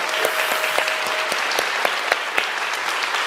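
A small group claps together, brisk scattered applause that carries on steadily for a few seconds.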